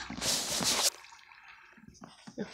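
Water floods in after mining into the ocean in Minecraft, a loud rushing burst of flowing water in the first second, then fading to quieter trickles and drips.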